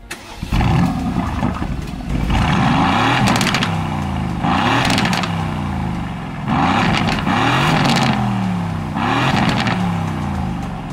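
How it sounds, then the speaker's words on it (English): A racing-focused sports car, started by push button without a key, fires up and then revs repeatedly in loud close bursts, its engine swelling and falling several times, with no talking. "If you want to turn on the car in this one, it's completely different."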